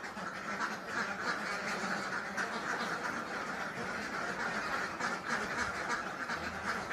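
A dense, steady chorus of many ducks quacking at an egg-laying duck farm, continuous and fairly near, with no talk.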